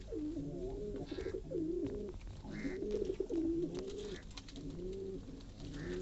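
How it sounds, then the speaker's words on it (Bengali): Pigeons coo repeatedly in soft, rolling phrases, several birds overlapping at close range with a steady murmur of calls and no talk. "কবুতরগুলো দেখেন, তারা খুব বিরক্ত"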